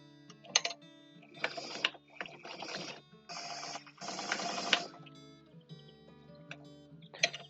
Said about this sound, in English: I have to be careful with my sewing machine